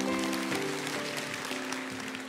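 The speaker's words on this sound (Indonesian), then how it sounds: "Kasih tepuk tangan untuk Pak Yunus." A church congregation applauds Pak Yunus with steady, dense clapping that fills the hall, accompanied by sustained tones from instruments or voices.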